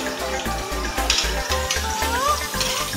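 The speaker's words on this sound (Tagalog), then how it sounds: "Ilagay po natin ang garlic. Igisa po muna natin ito." Garlic sautéing in hot cooking oil for a shrimp miswa soup, a soft steady sizzle that runs throughout beneath a pulsing low background tone.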